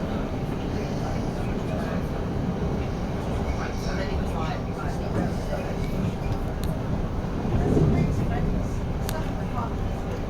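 A Thameslink train runs through a tunnel, giving a continuous low rumble and roar with a brief swell in loudness near the end.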